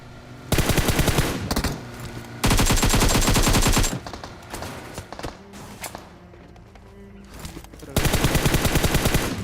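Automatic gunfire in a PUBG-style battle royale match in a shelter cave map, with loud sustained bursts of machine-gun fire in three main volleys separated by quieter stretches of scattered shots and movement.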